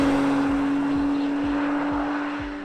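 A 2019 Acura NSX twin-turbo V6 holds a steady, loud drone on an open canyon road, close and continuous with a strong tonal hum.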